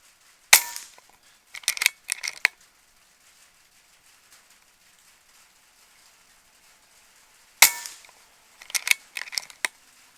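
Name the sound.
Air Venturi Avenger .22 air rifle firing pellets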